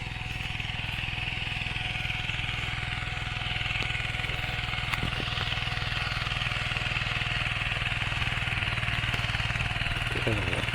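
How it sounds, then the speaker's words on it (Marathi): A tractor engine runs steadily in a farm field in Konkan during sowing and ploughing, a continuous low chugging drone that stays even throughout, with a few faint knocks on top. "पुढे ट्रॅक्टर चालूचा"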